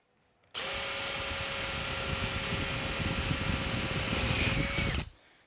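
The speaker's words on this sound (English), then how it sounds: "So I'm going to drill and rivet both of the holes, including the one under the clamp." A power drill boring rivet holes in an aircraft arm structure, a single continuous high-pitched whine lasting about four and a half seconds, starting and stopping abruptly, close and alone.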